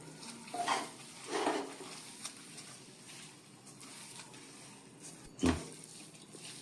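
A mixture of ground almond and cashew powder is stirred in a pan over low heat, with a faint soft scraping and a few brief clinks of spoon against metal, quiet and close.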